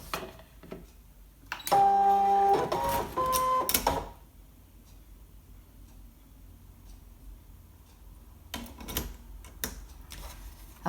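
A ScanNCut cutting machine loads a mat carrying stamped cardstock, giving a loud mechanical run of tonal beeps and whirring motor ticks for about two seconds, then quieter handling clatter and a few sharp clicks near the end.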